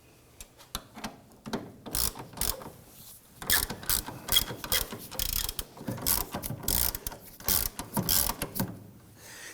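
A hand ratchet tightens a rear upper control arm bolt on a 2008-2011 Ford Focus, its clicking coming in quick rapid bursts close up, with short pauses between the strokes.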